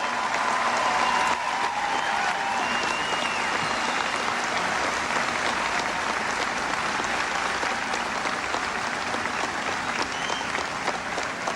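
Loud, sustained applause from a large audience at a 1996 election-night speech, filling the whole stretch as a dense, steady roar of clapping with a faint cheer near the start.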